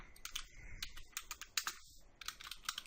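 Fast, irregular clicking of keys on a computer keyboard as a report name is typed in Microsoft Access 2016, with close, crisp keystrokes in short bursts and brief pauses, heard alone.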